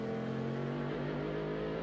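A race car engine at Laguna Seca during a 2003 American Le Mans Series round, a steady loud drone with a held tone as power comes on, close and continuous with no one talking.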